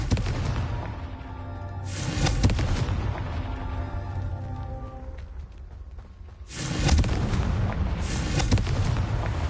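Confringo spell blasts in the video game Hogwarts Legacy, heavy booming explosions that burst out loud at the start, again briefly mid-way, then swell into a sustained rumbling barrage near the end, with no talk.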